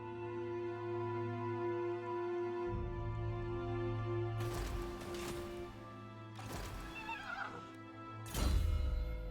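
War horse in the Total War: Warhammer 2 video game, loud whinnies and neighs repeating three times over a steady droning game soundtrack, with a heavy thud at the end.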